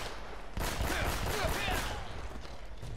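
Muffled bursts of gunfire rattle in the action video game Uncharted: Drake's Fortune, a dense continuous barrage under a voice talking.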